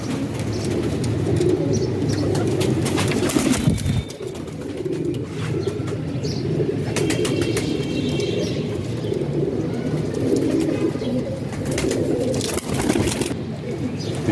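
Continuous cooing from several Teddy pigeons, low and throaty, with occasional rustles and brief sharp noises breaking in.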